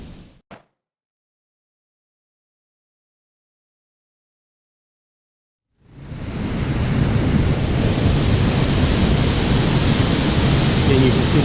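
Horsetail Falls pouring into its pool, a loud, steady broadband roar of crashing water that comes in abruptly after a short click and several seconds of silence, then holds constant.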